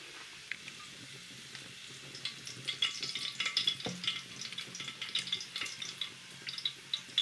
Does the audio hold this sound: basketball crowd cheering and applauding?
no